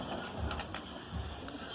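A Whirlpool washing machine in its spin cycle gives off a rough, continuous rumble and rattle with irregular clunks and knocks, fairly close and loud.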